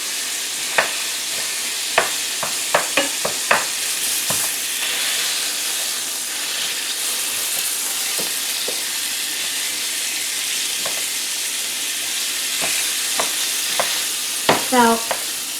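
Fatty 80-20 ground beef frying in a pan gives a constant, loud, hissing sizzle, punctuated by scattered sharp spatula scrapes and taps, clustered near the start and end.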